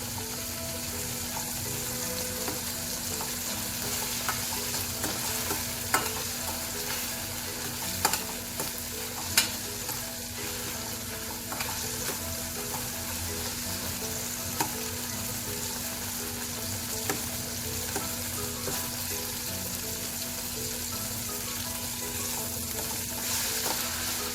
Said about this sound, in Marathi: हिरव्या मिरचीचे तुकडे फोडणीत परतून घेऊ टोमॅटो छान परतून घेऊ आपण